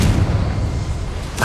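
A Confringo blasting spell explodes in the Hogwarts Legacy video game: a loud, booming blast with a heavy low rumble that rolls on for over a second before a brighter crack bursts in at the end.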